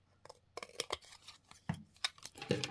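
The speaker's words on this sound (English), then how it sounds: "I'm going to trim this even more" Scissors trim paper for a collage: a run of crisp, irregular snips and cuts, close and fairly quiet, with short pauses between clusters of snipping.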